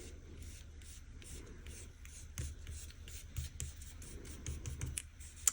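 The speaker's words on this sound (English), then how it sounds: "peel the bottom parts of the sticker off the ruler" Sticker backing is peeled off a ruler at close range, giving a soft, continuous scratchy rustle with faint repeated ticks of paper, quiet and steady, with no speech.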